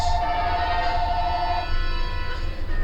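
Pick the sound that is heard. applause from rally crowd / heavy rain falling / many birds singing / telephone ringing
telephone ringing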